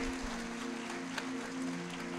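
Church congregation applause during a sermon, a continuous clapping wash from the crowd over a sustained musical drone, moderately loud and steady.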